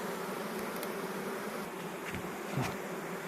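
Dense, steady buzzing of many honey bees at an open hive during frame removal, close and continuous, with no talk.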